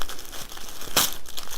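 A single brief burst of ripping gift box packaging, close and crisp, cutting through low background rustle in an otherwise quiet room.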